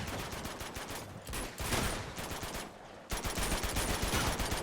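Sustained automatic gunfire from the video game Uncharted 2, dense rapid bursts of shots that carry on without pause, loud and close, with a brief drop in intensity around the middle before the firing surges again.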